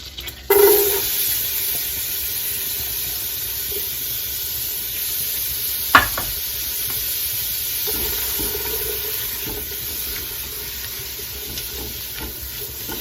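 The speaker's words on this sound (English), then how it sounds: "I'm going to saute these up for, approximately 3 to 4 minutes." Diced onions sauté in butter in a pan on the stove, a steady soft sizzle and hiss with a sharp clank of a utensil midway and occasional stirring scrapes.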